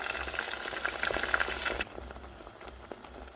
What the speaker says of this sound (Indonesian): Nah, ini kita tumis sampai bumbu halus benar-benar matang dan wangi ya teman-teman ya.